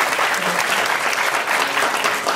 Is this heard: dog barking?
no